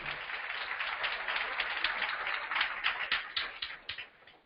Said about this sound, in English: Can we give Selenium a round of applause?